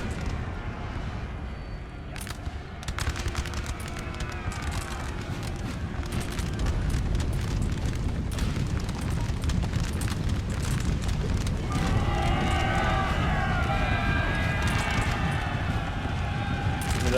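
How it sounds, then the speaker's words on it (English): Distant artillery fire rumbling across a Napoleonic battlefield in Napoleon: Total War, a low continuous roar of cannon and massed troops with booming swells, steady and loud throughout. "That was the artillery just now."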